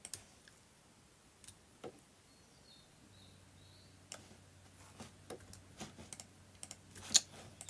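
Sparse, quiet clicks and taps of keys on a computer keyboard as shortcuts are typed, irregular and close, with a faint low hum in the background.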